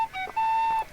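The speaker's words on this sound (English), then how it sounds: "I have to blow the whistle." Whistle blown in the 2008 video game Nancy Drew: The Haunting of Castle Malloy, a few short, clear pure-tone notes ending in one longer sustained blast, alone and fairly loud.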